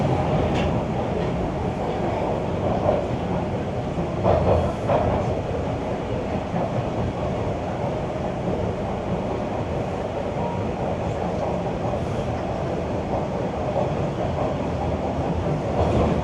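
A packed Toronto subway train on Line 1 rumbles and clatters steadily from inside the car, loud and continuous with no talking.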